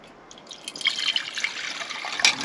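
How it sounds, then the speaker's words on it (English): Water splashes and trickles steadily into a deep camping pot next to a spirit stove, starting quietly, then pouring continuously with a brief louder splash near the end. "we're going to put the same amount of water into"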